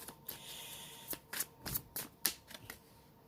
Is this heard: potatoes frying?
no